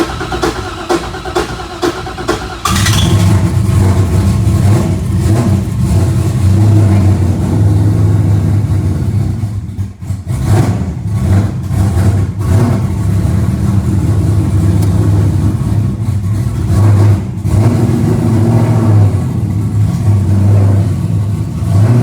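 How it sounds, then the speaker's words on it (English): A race car engine at an outlaw racing event is started and revved, its loud, close rumble growing after a brief low idle into sustained heavy revving with short throttle dips, running alone without talk. "Fire it up, let's break it in, let's run it for a minute."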